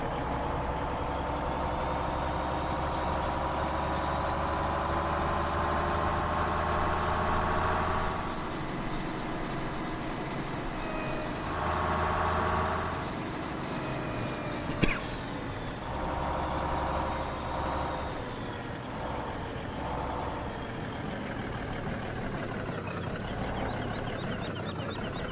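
A Kenworth log truck in Farming Simulator 17 rumbles steadily with a low engine drone, rising in short revving surges as it drives and reverses, with one sharp click partway through and no voices.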